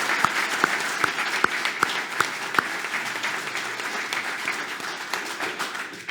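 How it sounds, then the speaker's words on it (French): A civic welcome event in Montauban, where an audience applauds the town's mayor with sustained, dense clapping. A few sharp, distinct claps stand out near the start, and the applause continues strongly throughout. "L'étape applaudissements pour la maire de Montauban"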